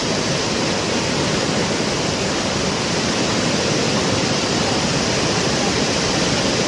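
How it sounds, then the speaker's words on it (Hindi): Cloudburst floodwater rushing through the main market streets of Sahastradhara, Dehradun, a dense, unbroken roar of fast-moving water, loud and steady throughout with no voices. "ये मेन बाजार में पानी की रफ्तार है, ये रिहायशी इलाके में पानी की रफ्तार है।"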